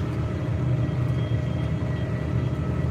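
A power shift tractor drives through a muddy field, its engine a steady, close, low rumble that holds level throughout with no voices.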